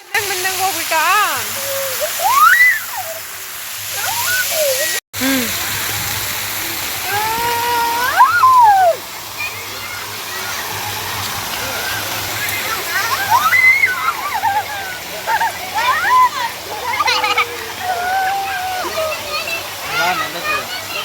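A water fountain beside the Lalbagh glass house during the 2026 flower show keeps up a steady splashing rush throughout, loud and close, while voices of people nearby talk over it.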